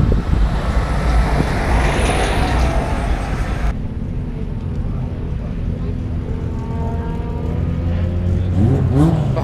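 A Spoon Sports Honda Civic engine revs at an outdoor Honda Day car meet, loud and close amid general crowd and traffic noise, with chatter in the background.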